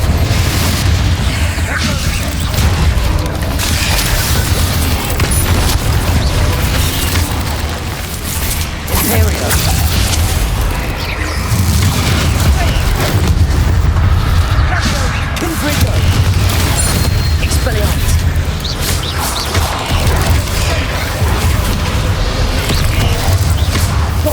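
Repeated Confringo fire-spell explosions in the Hogwarts Legacy video game, during a battle against goblins attacking villages. Loud booms and bursts land in rapid, overlapping succession over a dense roar of combat, and a voice shouts at times.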